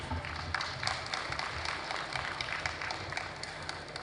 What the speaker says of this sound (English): Please, a round of applause for the former President of the Senate.